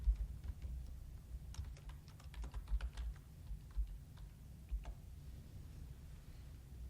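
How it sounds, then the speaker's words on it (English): Someone types a username and password on a computer keyboard at a Windows Active Directory login screen, uneven bursts of close, light key clicks with short pauses, over a low steady room hum. "I'm just going to use Windows Active Directory and type in the username and password"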